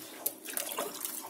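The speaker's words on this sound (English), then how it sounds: "Washing the root mass." Running water washes over the root mass of a ficus pre-bonsai, a steady close splashing rush with small bright spikes of dripping and spattering throughout, no voices.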